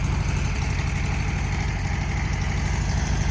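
A 1969 Volkswagen Beetle engine idles with a steady, buzzy, rapid rhythmic putter, loud and close, with no talk over it.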